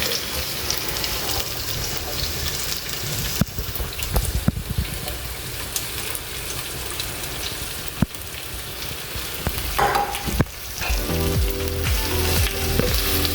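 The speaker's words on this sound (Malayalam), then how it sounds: "അടുത്തത് ഉള്ളി ഇടുന്നത്." Onions drop into hot oil in a pan for chicken perattu and fry with a continuous close sizzle and crackle. Occasional clatters of a utensil sound over the frying, and no one speaks.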